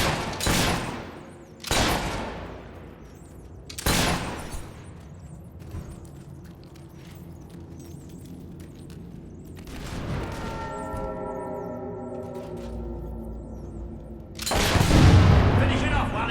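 Gunfire in the video game Fable III, several loud separate shots with booming tails across a steady background of combat noise and music, a final heavy blast near the end, no talking.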